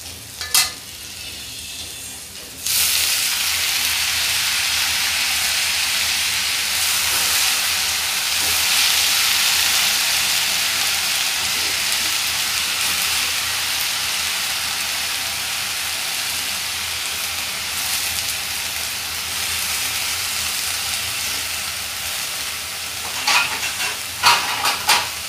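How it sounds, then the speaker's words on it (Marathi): Fenugreek greens drop into hot oil with garlic in a pan, setting off a loud, continuous close-up sizzle and hiss that holds steady for about twenty seconds, with faint stirring clatter near the end and no talking. "आता आपण यात भाजी घालूया।"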